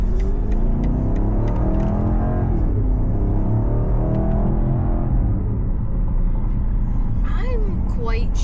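An Isle of Man Green BMW XM's engine hums as a steady low drone while driving, sitting continuously under someone talking throughout.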